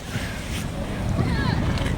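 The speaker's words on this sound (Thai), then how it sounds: "แต่ว่ามีลมนะ ลมพัดเย็นๆเลยนะครับ" A cool wind blows at the Mediterranean seaside in Nahariya, northern Israel, buffeting the microphone with a rough, continuous rumble over calm surf. A voice murmurs faintly underneath.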